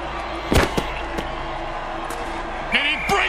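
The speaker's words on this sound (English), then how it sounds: "Listen to this crowd." A stadium crowd in the video game Mutant Football League roars steadily in the background with a few sharp thuds and knocks, while a voice talks over the noise.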